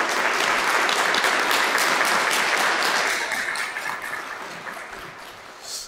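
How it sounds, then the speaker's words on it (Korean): A church congregation at a pastor's installation service claps steadily, loud and dense at first, then gradually thinning and fading toward the end. "우리 축하 박수 한번 드리겠습니다"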